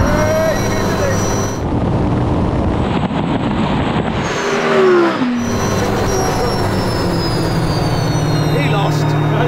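An Audi R8 and an Audi RS Q e-tron accelerate hard side by side in a drag race, with a loud, sustained roar and rising whine sweeping up through the gears. Heavy wind buffets the microphone throughout.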